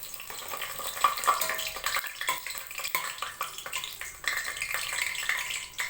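Cinnamon, cloves and whole spices crackle and sizzle in hot oil while being stirred, a fairly faint, busy frying hiss with irregular scraping bursts and no talking.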